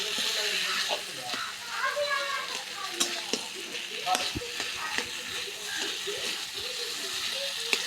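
Chunks of taro (kochu mukhi) fry and get stirred in a spicy masala, a soft steady sizzle broken by scraping spatula strokes, while someone talks over the cooking.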